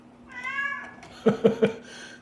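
A cat gives a drawn-out meow, followed by a few quick, louder chirping meows close by.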